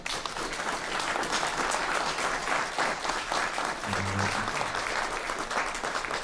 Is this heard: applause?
yes